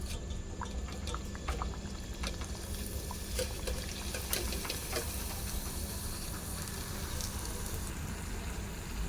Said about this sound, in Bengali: পাপড়ি ভাজা হয়ে যাচ্ছে।